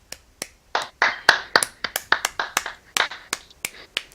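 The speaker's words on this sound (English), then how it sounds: "Clap, clap, clap." Sharp, close claps from a game commentator at the end of an esports team match, a few people clapping unevenly in quick bursts with distinct individual hits and short gaps, no talk over them.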